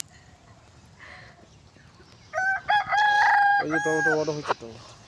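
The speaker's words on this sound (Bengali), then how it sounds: "আর এই ছাদে মোরগ ডাকছে।" A rooster crows once on a rooftop, loud and close, a long rising then falling call after a few quiet seconds of background.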